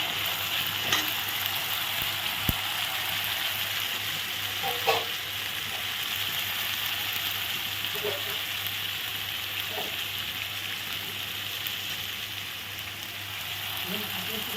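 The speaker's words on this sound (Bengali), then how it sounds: "লঙ্কার গুঁড়ো নেড়ে নিলাম" Spices with chili powder frying in a pan, a steady faint sizzle and hiss with occasional soft scrapes of stirring, no talk.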